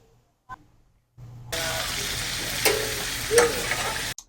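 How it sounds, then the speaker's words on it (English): Steak bites with mushrooms and garlic sizzling loudly in a very hot pan, a steady frying hiss that starts abruptly after a faint knock and continues close up with small crackles and pops. "And this is really hot, but we're going to go ahead and add the steak back to it so it's all together"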